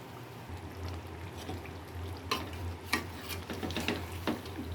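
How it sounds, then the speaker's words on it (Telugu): Prawns being stirred into a lemony mixture in a pot, with a few sharp spoon-on-metal clinks and scrapes over a soft continuous sizzle and low background hum. "కలుపుకొని ప్రాన్స్ వేసేసుకుంటాను."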